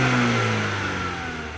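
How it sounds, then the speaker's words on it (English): A 2018 Mazda 6 turbo engine revs loudly and close, its steady mid-pitched drone with a faint whir of turbo spool slowly easing off. "you can actually hear a little bit of turbo spool and a little bit of blow off"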